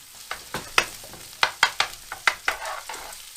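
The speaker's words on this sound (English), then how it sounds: "So I'll just fry that off for now." Chorizo and two chili peppers fry in a pan. A soft sizzle runs underneath while about a dozen sharp clacks and scrapes of a spoon stirring against the pan sound close and uneven.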